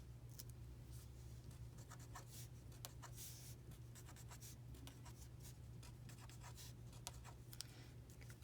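Pen scratching across a paper page while copying a Punnett square, brisk repeated strokes close to the microphone over a low steady hum.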